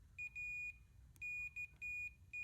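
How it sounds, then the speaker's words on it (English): A multimeter gives high electronic continuity beeps while testing an ATV starter motor: a short burst, then several steady tones of varying length, close and clear against a quiet low hum. "I have this fancy beep option"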